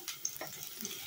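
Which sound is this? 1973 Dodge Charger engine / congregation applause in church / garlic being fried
garlic being fried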